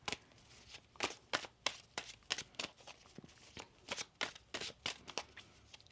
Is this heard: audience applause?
no